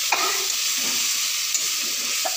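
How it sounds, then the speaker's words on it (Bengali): Spice paste with turmeric sizzles in a pan for a potato, tomato and broccoli curry, a steady close frying hiss broken by a few soft scrapes of stirring. "মশলাটা লাল লাল ভাজা হয়ে গেল"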